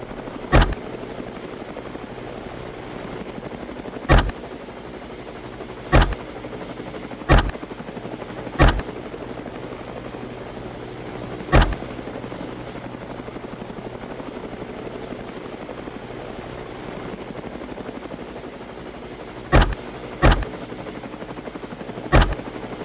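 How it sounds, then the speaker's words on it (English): A helicopter drones steadily throughout, a constant rotor and engine hum with a high whine, while a series of sharp loud cracks, likely gunshots, punctuate it irregularly. "Inside the helicopter, Mark lowers the craft with steady hands"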